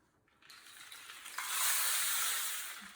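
A homemade rainstick filled with beans and rice gives a dry, granular rattle of small hard pieces cascading steadily, swelling into a dense hiss that lingers for a couple of seconds before thinning out.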